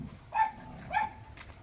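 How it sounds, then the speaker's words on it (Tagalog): A farm guard dog in Bohol barks twice, short and fairly close, with a brief pause between barks and a faint whine after. "Alagang aso, gwardiya."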